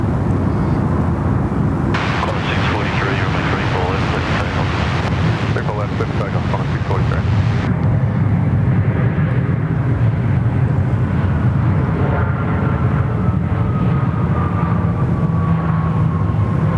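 Qantas airliner taking off from Sydney Airport bound for Perth, a loud continuous jet roar heavy with wind buffeting that gradually thins into a fading whine.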